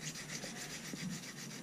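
A Swiss Army knife blade is drawn over the coarse side of a sharpening stone, giving a steady, close, gritty rubbing with faint rhythmic strokes and no talking.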